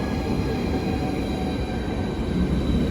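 A Class 73 locomotive running light engine with a severe wheel flat rolls past close by, a loud steady rumble with faint rhythmic thumping and a thin high squeal.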